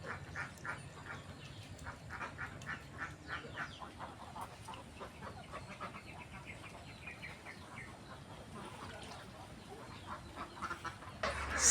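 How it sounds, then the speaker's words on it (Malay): Ducks on a duck farm in Aceh quack in a busy, overlapping chorus of short calls, heard at a moderate distance against a low background murmur. "Bebeknya, bro."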